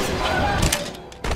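A gunshot in the horror video game Granny 3, two sharp loud bursts with a brief echoing tail in between.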